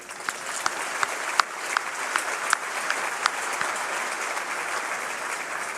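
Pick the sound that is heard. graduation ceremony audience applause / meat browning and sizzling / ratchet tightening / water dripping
graduation ceremony audience applause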